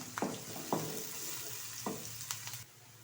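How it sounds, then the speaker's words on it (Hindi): Onions, two medium-sized, frying in hot ghee in a kadai for a dhaba-style arvi masala, giving a steady close sizzle with several sharp stirring scrapes spread through it and no voices. "अब इसमें हम 2 मीडियम साइज के प्याज ऐड करते हैं और प्याज को लाइट ब्राउन होने तक हम फ्राई करते हैं।"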